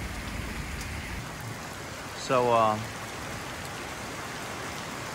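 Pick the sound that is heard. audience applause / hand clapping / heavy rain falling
heavy rain falling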